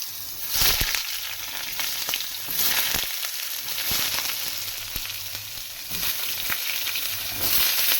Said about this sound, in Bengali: এবারে আমি ভেজে নেব বেগুন বেগুনটা খুব হালকা করে ভেজে নেব